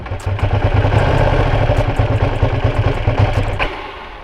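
A 2020 Ducati Panigale V2 motorcycle engine cranks and catches into a loud, lumpy, clattering idle up close, then fades and cuts out toward the end.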